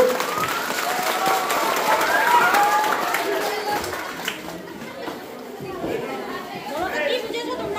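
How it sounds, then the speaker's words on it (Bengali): Schoolchildren clapping and chattering together for their teacher during a bagless-day school activity, a busy crowd sound that swells and then eases off, with voices throughout. "সবাই জোরে একটা হাততালি দাও ম্যাডামের জন্য"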